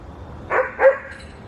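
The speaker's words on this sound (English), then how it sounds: "Can you stop barking, please?" A dog gives two quick nearby barks indoors, a short double woof against quiet room noise.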